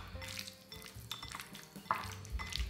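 Cornstarch slurry stirred into meat in a bowl, with close clinks and scrapes of a utensil against the dish in short uneven strokes, no talk.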